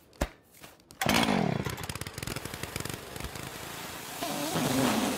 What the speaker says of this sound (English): He's vacuuming up the leaves.